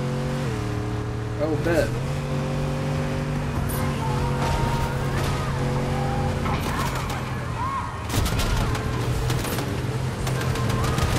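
A car in the Fortnite video game revving, accelerating and skidding with tire squeals, the engine pitch shifting up and down over the stretch, with a player talking briefly over it.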